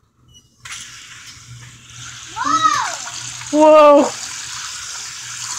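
Water gushes from a tap into water balloons as they fill, a steady rushing hiss that starts after a brief pause, while a child lets out two loud, excited vocal exclamations over it.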